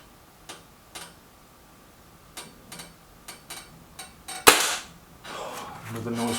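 Kral Puncher Breaker and Reximex Accura air rifles fire at targets in a head-to-head comparison: a series of sharp, snappy cracks at uneven intervals, then one louder, nearer shot followed by a brief rustle.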